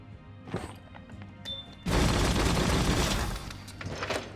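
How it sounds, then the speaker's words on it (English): Automatic rifle fire in the video game Biomutant: a sudden, loud, dense burst of rapid shots that lasts about a second and a half, then tails off into quieter game sounds. "Finally got an automatic weapon. Or an automatic rifle."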